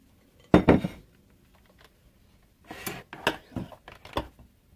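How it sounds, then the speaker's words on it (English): Big kitchen mixing bowl grabbed and handled while making cream puffs, a clattering knock of the bowl, then a pause, then a quick run of lighter clinks and bumps close by. "I'm grabbing my big bowl"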